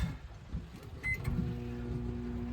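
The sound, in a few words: microwave oven turning on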